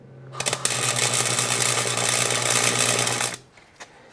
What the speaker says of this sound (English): we're going to go ahead and weld everything up, get it ground down to where it's nice and even